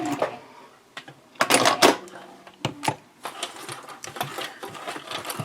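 Sewing machine backstitching at the top of a fabric handle on an eco-friendly shopping bag, with several short close-up bursts of rapid mechanical stitching separated by brief pauses.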